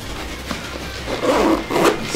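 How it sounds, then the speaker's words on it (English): Side zippers on a Mystery Ranch Treehouse backpack being pulled down, giving a few close, raspy zipping runs in quick bursts, with no talking. "it's got two zippers on the side that go down"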